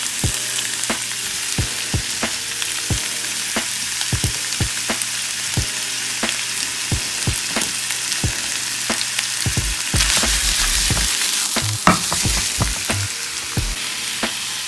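Pork and onions fry loudly in a pan with garlic and ginger for a red Thai coconut curry, a dense continuous sizzle with occasional utensil scrapes; no talking.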